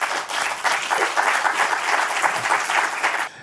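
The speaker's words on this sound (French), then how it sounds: "on peut l'applaudir d'abord" An audience at a talk on the destruction of water reservoirs applauds the speaker, dense, loud clapping that holds steady for about three seconds and then stops abruptly.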